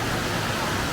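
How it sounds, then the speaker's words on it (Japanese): A river rushes in a steady, loud, unbroken wash right beside an open-air milky sulfur hot spring bath at Takayu Onsen in Fukushima. "川の音が聞こえて"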